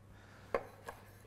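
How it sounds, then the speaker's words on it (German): A knife chops through duck skin on a cutting board with one sharp, close knock followed by a softer second cut, alone against a quiet kitchen hum. "Dann schneide ich mir da ein paar Würfel."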